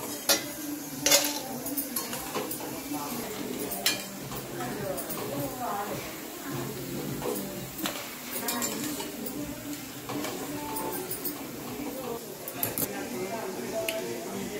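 Lentil fritters and pakoras (dal vada and chana dal pakodi) are moved onto a plate, with repeated clinks of a utensil against dishes and pans in a kitchen under ongoing background noise.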